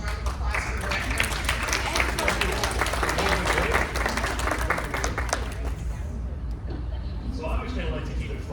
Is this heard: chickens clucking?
no